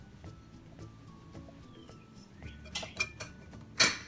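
Metal parts of a stovetop moka pot clink and scrape as the top is fitted and screwed on, with scattered small knocks building to a sharp metallic clack at the end, close and fairly quiet.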